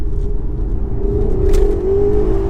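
2015 Porsche Panamera Turbo S launching hard, its engine note rising steadily into a loud, sustained roar over deep road rumble, heard close from inside the car with no talking.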